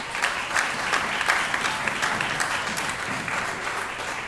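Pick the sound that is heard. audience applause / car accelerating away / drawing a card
audience applause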